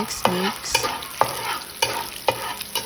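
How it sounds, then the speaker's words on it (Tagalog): Garlic fries in hot oil, prepared for a sautéed ampalaya with egg and ground meat. A steady sizzle runs throughout, broken by several sharp stirring scrapes and clacks against the pan at an uneven rhythm. "And I prepare this oil. Let it boiling. And then follow up by the bawang or garlic."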